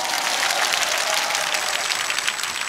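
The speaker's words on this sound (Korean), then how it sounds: "여러분 큰 박수 한번 해주시기 바랍니다" Loud crowd applause fills the whole stretch at a political rally in Korea, a dense, steady wash of many hands clapping with no speech over it.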